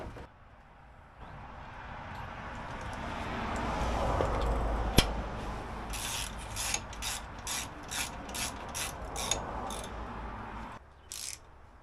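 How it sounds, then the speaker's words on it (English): A Harbor Freight winch is fitted onto a modified winch plate on a Jeep CJ7, with rapid bursts of ratchet clicking following a building mechanical rub, close by. "And now it's time to put the winch on."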